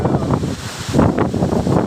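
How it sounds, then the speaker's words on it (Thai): Strong wind sweeping across open rice fields buffets the microphone in loud, uneven gusts with a rough, roaring rumble and no voices. "แรงจังลมแรงจัง"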